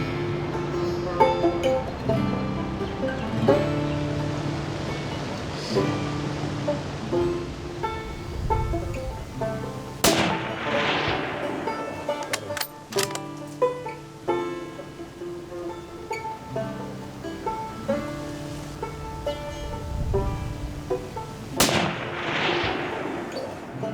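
Rifle shots at a sambar stag on a hunt: a few sharp, loud cracks spaced apart, each followed by a rolling echo over quiet outdoor background.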